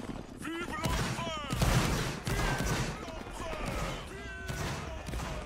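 A Napoleonic Wars video game battle carries several sharp musket volleys cracking out at mid distance, with whistling projectiles and a steady din of battlefield noise between the shots.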